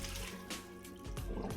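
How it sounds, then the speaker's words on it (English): Water drains from boiled and chilled pork belly poured into a colander, a close, splashy gush of liquid that eases briefly and then surges again. "drain it in a colander"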